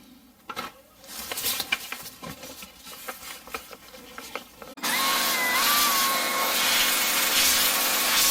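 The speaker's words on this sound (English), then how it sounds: "to finalize the cleaning of the PCB, you have to use the air blower." Compressed air blower blasting across a cleaned graphics card circuit board during an ASUS Dual RTX 4060 Ti teardown: light tapping and handling noises first, then a loud, steady broadband hiss that runs to the end.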